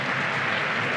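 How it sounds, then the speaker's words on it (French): Stadium crowd at Mustapha Tchaker stadium applauding during an Algeria versus Rwanda football match, a short, continuous roar of clapping and crowd noise at a steady, moderate level. "Sous les applaudissements du public du stade Mustapha Tchaker"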